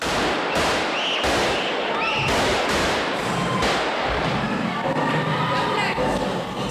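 Sharp repeated gunshots crack out at irregular intervals over a noisy background of crowd commotion, sounding like gunfire or firecrackers nearby.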